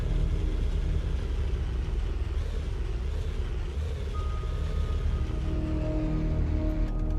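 A tank engine in the game Sprocket drones and rumbles continuously and loudly as the vehicle drives up a hill, a steady low growl that holds without a pause.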